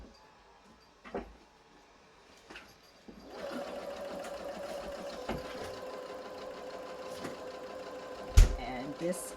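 A sewing machine runs a long continuous seam on a period walking skirt, its steady mechanical whir close and moderate in level after a few clicks, ending with a sharp thump.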